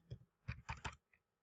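Quiet keys tapped on a computer keyboard, a short close burst of four or five clicks in quick succession and then one faint final tap.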